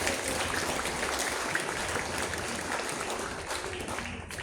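Applause from students of grades 7, 8 and 9 at a school ceremony for National Awakening Day 2025, a sustained crowd of clapping hands, even and continuous, gently fading toward the end.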